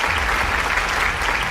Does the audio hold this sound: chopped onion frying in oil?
no